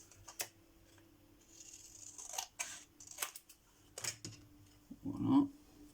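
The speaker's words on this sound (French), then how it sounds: "Des ciseaux." Scissors snipping paper for a card-making craft, a few sharp separate clicks and cuts close by in a quiet room, with a brief soft thud near the end.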